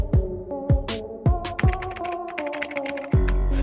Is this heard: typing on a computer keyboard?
yes